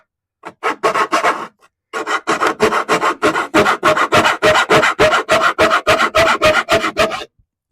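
A hand saw cuts wood in fast, rhythmic back-and-forth strokes, a short burst, a pause, then a long steady run of about twenty loud rasping strokes close by, with no talking.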